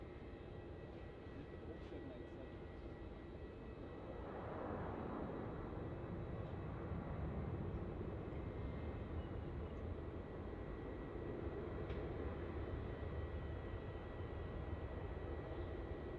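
A Shanghai Airlines airliner rolls along the runway toward a rapid exit after landing at Melbourne Airport, a distant, steady engine roar that swells slightly midway and holds under constant background hiss.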